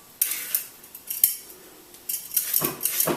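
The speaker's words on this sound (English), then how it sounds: "I'm now just peeling down to the core into my bowl that I'm going to be mixing it all with, to get my lovely pale noodles" A vegetable peeler scrapes over a bowl, cutting pale raw vegetable noodles down to the core, heard as a series of close, light scraping strokes with faint clinks against the bowl.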